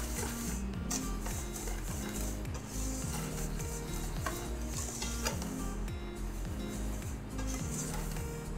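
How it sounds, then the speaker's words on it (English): Steady rhythmic whisking of milk and eggs in a bowl for chocolate cupcake batter, repeated close scraping strokes at a brisk even pace, continuous and fairly loud with no talking. "what you want to do is just whisk this,"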